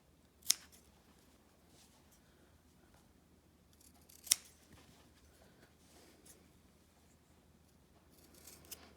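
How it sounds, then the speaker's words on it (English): Fabric scissors snipping across the corners of a sewn square bowl cozy to remove bulk, giving sharp isolated cuts spaced a few seconds apart over a quiet room with no talking. "I'm going to just take my scissors and I'm going to carefully cut across the corners"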